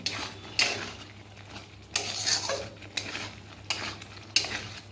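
Fried potatoes being stirred into a kofta curry masala, with a handful of distinct spoon scrapes against the pan over a soft simmering sizzle and low background hum.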